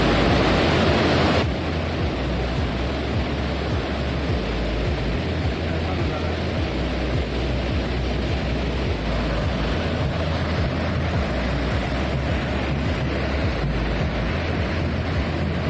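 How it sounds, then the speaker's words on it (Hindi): The flooded Yamuna river rushes past near the Jankichatti–Yamunotri route, a loud, continuous roar of churning water mixed with wind buffeting the microphone, steady throughout with no speech. "तेजी से यमुना नदी बह रही है।"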